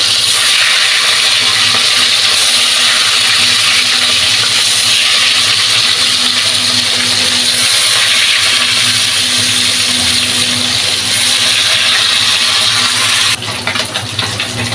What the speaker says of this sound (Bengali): আজকে আমার তেল গরম হয়ে গেছে মাছগুলো দেবো ভেজে নেবো